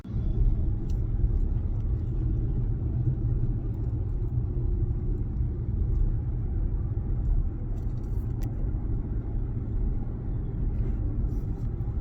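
A car's interior rumble while driving home from North Springfield, a steady low road and engine drone heard from inside the cabin, unbroken throughout.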